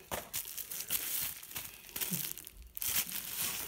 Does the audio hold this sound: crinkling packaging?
yes